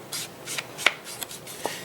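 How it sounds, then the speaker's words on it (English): Brushed corduroy ink is dabbed and rubbed along cut paper edges, giving a series of soft, close brushing swipes with a few sharper taps, quiet and without talk. "If you'll just ink those,"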